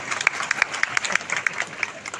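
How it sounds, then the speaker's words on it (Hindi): Audience applause at a Hindi-language public event with a legislator present, a burst of scattered, uneven hand claps from a seated crowd, moderately close and steady for about two seconds with no voices over it. "एक बार जोरदार ताली बजा दीजिए।"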